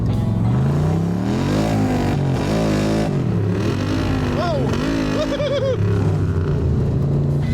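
A loud 590 hp LS V8 engine in a bodyless track car revs and accelerates continuously on a track, pitch rising and falling through gear changes, with a voice talking over it.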